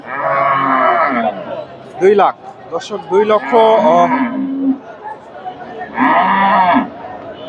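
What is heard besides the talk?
Friesian dairy cow at a cattle market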